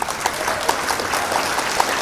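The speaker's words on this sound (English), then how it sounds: "we'll give Dale a little bit of an applause for that one." The crowd gives brief, moderate clapping after a shot in a pool challenge match, with scattered individual claps forming a short, even patter.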